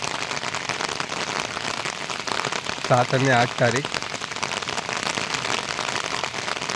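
Heavy monsoon rain in Konkan pours down in a dense, constant hiss, with someone speaking briefly in the middle over the downpour.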